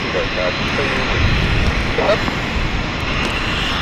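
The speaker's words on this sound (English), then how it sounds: "we have the VistaJet coming in with the Cessna Citation" A VistaJet Cessna Citation jet approaches to land at London City Airport, its engines a broad, steady roar under a person talking over it.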